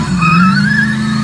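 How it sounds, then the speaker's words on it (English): A car doing a burnout, its tires squealing in a steady high whine over a loud, sustained engine roar. The sound is close and fills the whole short burst. "He rips a burnout like he's announcing a baby's gender"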